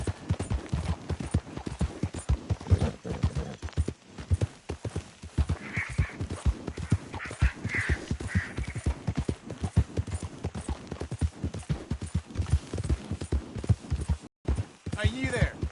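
Horse hooves clip-clopping in Red Dead Redemption 2, a steady, fast rhythmic patter of hoofbeats running almost continuously, with a voice briefly heard in the mix.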